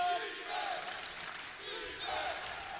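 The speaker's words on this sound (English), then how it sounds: "Crowd really getting into it now as they feel the Tigers are so close to getting over that finish line" Spectators at a wheelchair basketball game roar together in sustained, swelling chants and cheers, a loud, echoing wall of crowd voices rising and falling in waves across an indoor arena.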